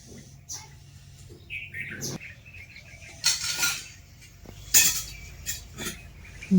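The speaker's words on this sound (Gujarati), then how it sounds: "એટલી બધી ચકલીઓ આવી છે વાડામાં," Sparrows chirp in a village yard while pecking at rice, bright little calls scattered among clinks of dishes and cutlery nearby, moderately close with some louder bursts.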